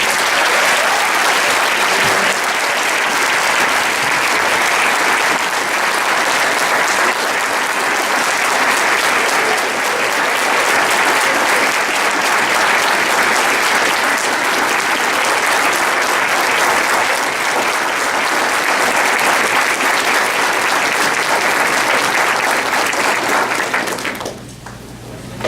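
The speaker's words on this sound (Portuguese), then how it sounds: "os novos advogados paranaenses habilitados ao exercício da advocacia, a quem peço uma merecida salva de palmas" Audience applause for newly admitted lawyers at a bar association swearing-in ceremony in Londrina, Brazil, a loud, sustained wash of many hands clapping that stays even for about twenty-five seconds before dropping off abruptly at the end.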